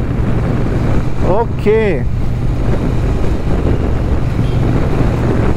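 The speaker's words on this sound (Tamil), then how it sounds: "இது வந்து ஒரு liquid cooled 812 SOHC 270 degree crank angle parallel twin 1200 CC இன்ஜின்க" A Triumph Bonneville T120 with a 1200cc liquid-cooled parallel twin is ridden along while wind buffets the microphone, giving a steady engine drone. A rider speaks briefly over it.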